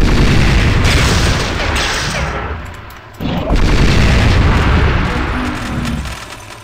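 Rapid gunfire and booming blasts from the video game Shogo: Mobile Armor Division roar continuously, loud and dense, with a brief lull midway before the firing resumes.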